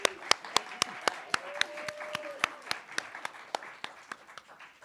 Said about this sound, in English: So can you give them all a round of applause